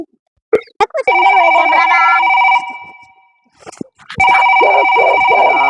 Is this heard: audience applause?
no